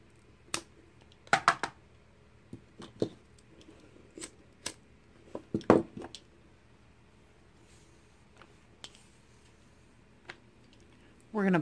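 Scissors cut beading cord for a textured flower kandi cuff, a series of sharp close snips coming in small clusters with gaps between, loud against a quiet room.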